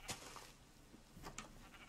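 Sheep in the block-building game Minecraft give a few faint, short bleats spread across a quiet stretch, soft and distant with no talking.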